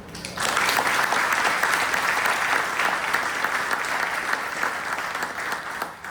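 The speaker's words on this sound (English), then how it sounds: "how about another round of applause for the honor guard for our invocation and awesome rendition of our national anthem" A crowd at a military retirement ceremony applauds the honor guard after the invocation and national anthem, dense sustained clapping that starts abruptly and holds evenly before tapering at the end.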